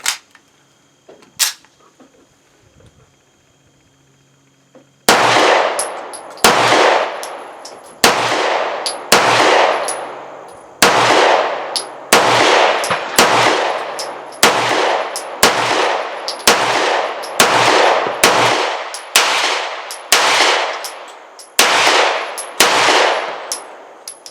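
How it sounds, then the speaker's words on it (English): A first-generation IWI Jericho 941 9mm pistol fires close by: one early shot, then after a pause a long string of about fifteen loud, sharp reports at a steady, fairly quick pace. "Again, it fires nice and smooth, almost no recoil."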